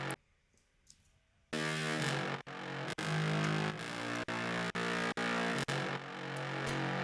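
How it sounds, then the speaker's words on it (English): Trombone sample shaped with EQ, entering after a quiet opening and sounding in sustained, loud brassy notes broken by short regular gaps, close and alone. "This is just a trombone sample."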